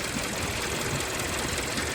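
A 2011 Hyundai Sonata's 2.4-litre engine idles with a steady, dense, continuous rumble and hum, loud and unbroken throughout, with no voices.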